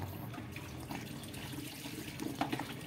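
Water pours into mud to loosen it, making a faint, continuous trickling and splashing with a few small drips near the end.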